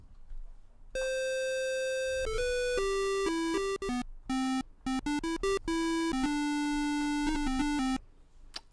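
A bright, buzzy 50% square-wave chiptune synth from the magical8bitplug2 plugin plays a stepping melody of sustained and short notes, loud and alone, with a few brief gaps between phrases.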